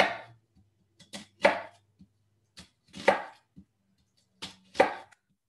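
A knife slices through an onion on a cutting board in a home kitchen, giving sharp, crisp cuts in an uneven rhythm of about seven strokes, close and clear with no talking.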